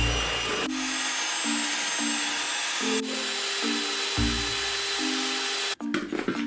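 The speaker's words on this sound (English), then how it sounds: "Over pretty medium to high mixing speed, mix this for about 4 or 5 minutes." An electric hand mixer whips cream for cream puffs at medium to high speed, a close whining motor hum that steps between a few pitches as the speed shifts, ending in clattering handling noise.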